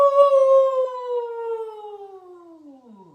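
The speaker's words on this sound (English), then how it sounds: "listen to one more howl" A single long, sustained howl, starting strong and slowly gliding lower in pitch as it fades out.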